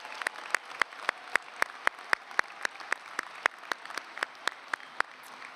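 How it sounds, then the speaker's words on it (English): Applause at a dental school convocation for the graduating class, with a few nearby hands clapping in a steady, sharp rhythm over a softer spread of clapping from the wider audience. "Let's give another round of applause to the class of 2023"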